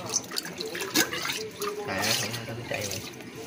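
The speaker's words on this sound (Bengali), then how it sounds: "আমি এখানে জলটা ভরি" Water runs from a tap into a container in a home, splashing and gurgling at close range while a voice speaks briefly over it.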